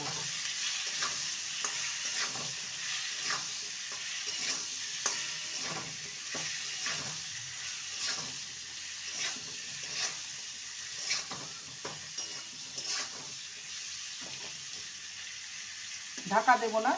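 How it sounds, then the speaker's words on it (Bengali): Pieces of ridge gourd fry in an uncovered pan with a soft, steady sizzle and repeated stirring scrapes at a slow rhythm, followed near the end by a short louder burst. "ঝিঙেটাকে দু মিনিট ভেজে নেব ঢাকা দেবো না"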